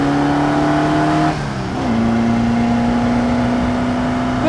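Formula Vee race car engine revs up through the gears with drum brakes and a raw, open feel; a buzzy note climbs, briefly drops at a shift, then holds high and loud from inside the car.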